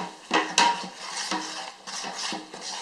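Spoon or whisk clatters and scrapes around a bowl holding a double batch of batter, a few sharp clinks standing out over a steady close stirring rustle.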